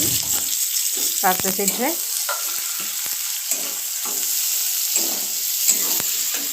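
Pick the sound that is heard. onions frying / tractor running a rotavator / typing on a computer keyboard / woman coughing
onions frying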